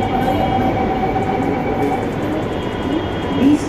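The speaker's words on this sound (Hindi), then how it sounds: "दोस्तों मेरे पीछे जो मेट्रो आप देख रहे हैं ये जा रही है हजरतगंज" A Lucknow Metro train rumbles and hums loudly nearby as it pulls away from the station toward Hazratganj, wheels rolling steadily with a faint squeal rising near the end.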